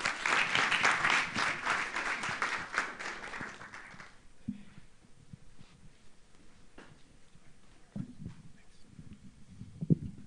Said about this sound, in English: So if we can just give a round of applause for our panel members.